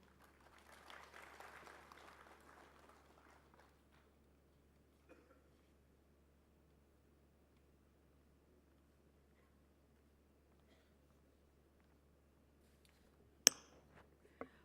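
Faint applause from a conference audience welcoming a speaker at a nuclear and radiological emergency event, lasting about three seconds before the room falls quiet, with a sharp click near the end.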